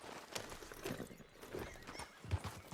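A horse in the Red Dead Redemption 2 video game whinnies while its hooves clip-clop nearby. The hoofbeats are quiet and uneven and mix with the neigh over a few seconds.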